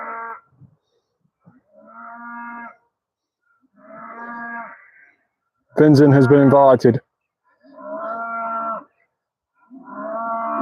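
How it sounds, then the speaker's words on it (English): Cattle mooing in the countryside, several long drawn-out calls spaced through the stretch, one much louder and closer burst in the middle, with someone talking briefly between them. "Cows just keep making noise while you're trying to live stream Pokemon."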